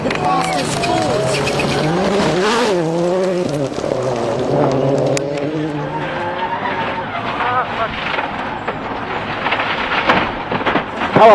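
Rally car on a gravel stage of the Acropolis Rally, engine revving and rising in pitch before tires skid as the car spins, with commentary talk over the loud, rough noise.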